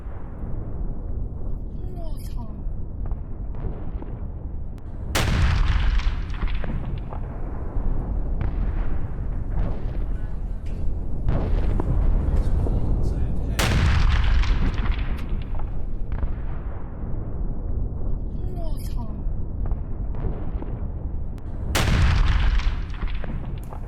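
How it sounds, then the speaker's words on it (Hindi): Deep, rumbling booms from an explosion on a container ship roll out repeatedly over a constant roar of noise, like heavy explosions echoing in the distance. "कंटेनर जहाज में हुआ है भीषण विस्फोट"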